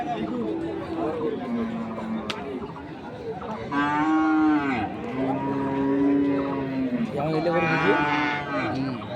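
Holstein Friesian cross bulls at a cattle market in Ambari, Dinajpur, lowing in several long drawn moos, close and loud, over a constant murmur of crowd chatter and voices.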